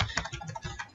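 Computer keyboard typing, a quick steady run of clicky keystrokes close to the mic, with no voices.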